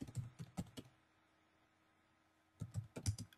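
Typing on a computer keyboard to enter a search: two short clusters of soft, close key taps separated by a quiet pause.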